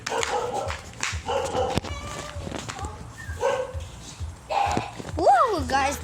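A dog whimpers, yips and gives short barks up close, with a rising whine near the end, while people talk over it.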